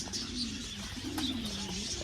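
Pigeons cooing in a steady, low throaty murmur, close by and continuous, with a few faint chirps from small birds mixed in behind.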